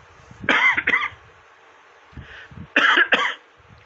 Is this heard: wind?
no